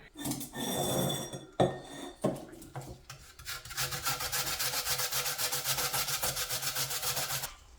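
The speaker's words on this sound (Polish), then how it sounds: "Następnie będziemy je ścierać na tarczce o drobnych oczkach" Raw potatoes grated on a fine grater for grey potato dumplings, giving a steady, rapid rasping scrape in quick repeated strokes after a few separate scrapes and knocks, close and fairly loud with no talk.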